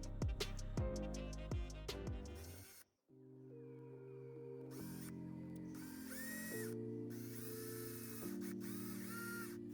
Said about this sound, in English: here's that top part all drilled out